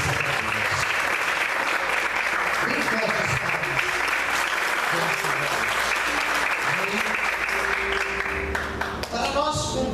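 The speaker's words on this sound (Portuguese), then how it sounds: "Vamos aplaudir o Senhor," A church congregation applauding at a worship service, dense sustained clapping filling the room for nearly ten seconds, with some voices mixed in underneath.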